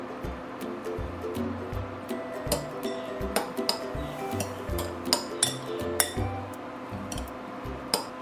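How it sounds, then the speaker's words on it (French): A spoon stirs chestnut pieces in red food colouring inside a bowl, making repeated light clinks and taps against the bowl in an uneven rhythm, close and clear, with no talk. "On va bien mélanger."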